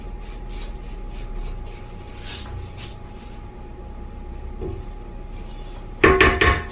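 A spatula scraping pecan bar batter around a mixing bowl gives a series of quick rhythmic scraping strokes, then a softer pause and a brief louder clatter near the end.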